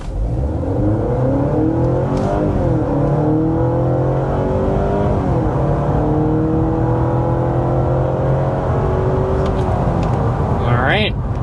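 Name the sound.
2026 Honda Accord Touring hybrid hard acceleration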